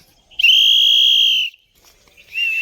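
A single sharp, shrill whistle blast at a zoo, held for about a second, then a brief pause before another whistle begins.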